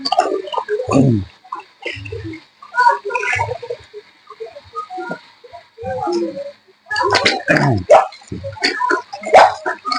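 A guard dog barks in short bursts at a home gate, mixed with a person talking nearby, with a faint steady background hum throughout.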